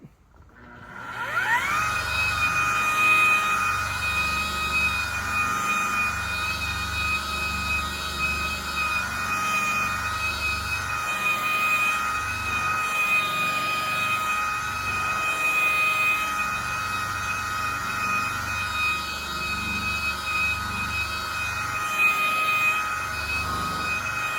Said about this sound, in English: I just decided to use the high-speed buffer with the wool pad.